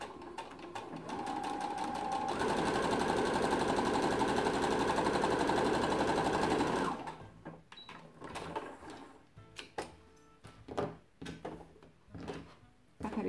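A sewing machine stitches a fabric face mask in one steady, loud run for about five seconds, then stops, leaving sparse clicks and handling sounds of the cloth and machine.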